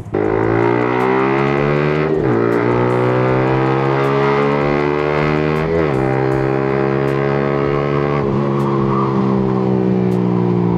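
A big-bike motorcycle engine revs hard toward 11,000 RPM, climbing to a high-pitched whine, dropping briefly between gear shifts before climbing again, loud and close throughout.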